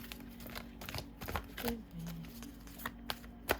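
Soft riffling and flicking of tarot cards being shuffled, a few sharp snaps amid quiet rustling, close by and brief.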